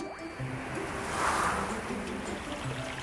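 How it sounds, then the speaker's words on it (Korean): Water rushing in a valley stream, a steady broadband wash that swells briefly in the middle and settles back, with no talking. "시냇물 소리는 얼음처럼 차갑고 시원하구나"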